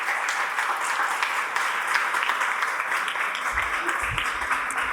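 Audience applause for a woman during a Portuguese-language church sermon, a steady wash of many hands clapping at moderate volume throughout, with a faint voice briefly rising near the end.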